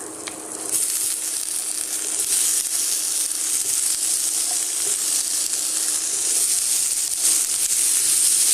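Soaked, boiled chickpeas with masala sizzle steadily in a pan, a close, continuous frying hiss with occasional scrapes from stirring.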